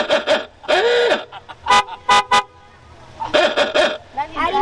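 Hot rod car horn toots in short bursts, a quick sequence of honks then a longer blast, loud and close, with people talking around it.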